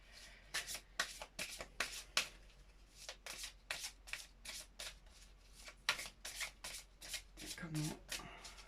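Tarot cards being shuffled by hand, a quick series of crisp riffling bursts with brief gaps between them, close and fairly quiet, and a voice faintly present near the end.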